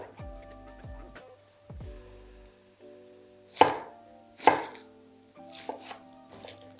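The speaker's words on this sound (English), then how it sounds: "Then you're going to get the onion and you're going to cut it in with the skin on." A knife chops through a skin-on onion on a board: a few soft early taps, then two sharp, loud cuts and a run of lighter chops, close by with no talking.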